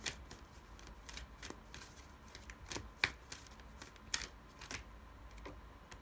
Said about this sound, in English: Let me shuffle a card.